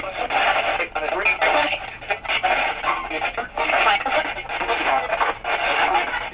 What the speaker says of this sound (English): And as you can hear, that's the AM frequencies.